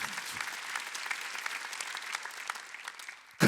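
Congregation at a Wednesday church service clapping together, a dense continuous wash of many hands filling the room, ending with a sudden louder burst.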